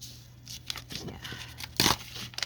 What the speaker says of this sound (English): So I'll go ahead and tear.